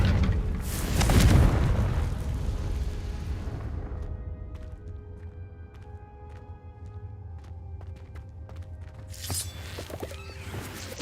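A loud Confringo blasting spell in Hogwarts Legacy bursts with a heavy booming explosion that rumbles and fades over a few seconds, followed by lighter magical chimes and a second whooshing burst near the end.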